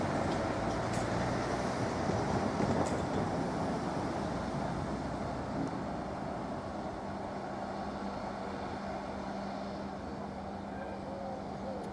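A Class 156 diesel multiple unit, 156402, pulls away from a station toward Felixstowe, its engine a steady broad rumble with wheel and rail noise holding fairly constant throughout.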